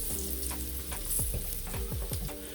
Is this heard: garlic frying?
yes